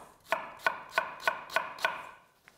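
Ginger being coarsely chopped with a knife on a cutting board: six crisp, evenly spaced chops in a steady rhythm, close and clear with no talking, followed by a faint final tap.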